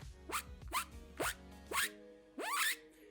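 A voice imitates a zipper with five quick rising, squeaky swipes, four in a fairly even rhythm and a longer one after a short pause.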